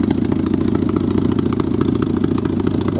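A Toyota Supra engine idles steadily with a rough, pulsing rumble and light mechanical clatter, loud and close, with no voices.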